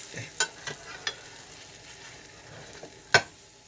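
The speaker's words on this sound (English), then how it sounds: "Now we'll take it and flip it over." A pancake in a frying pan, soft sizzling beneath a few sharp spatula scrapes and taps, with a louder clack as it is flipped over near the end.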